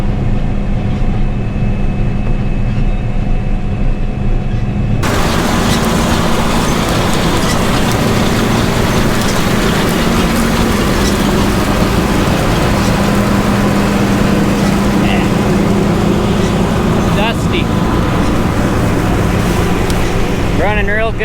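2006 John Deere 9760 STS combine with a 35-foot Hydroflex header harvesting organic hemp. A muffled engine drone gives way after a few seconds to a loud, continuous, full-bodied roar that persists to the end.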